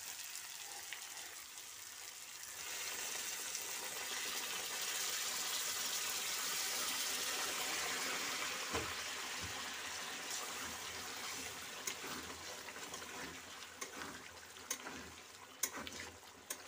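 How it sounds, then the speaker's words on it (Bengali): Water pours into a kadai of potato and chickpea curry, a steady rushing hiss that swells after a quiet start and carries on with small clicks and splashes. "এবারে আমি জলটা দিয়ে দেবো।"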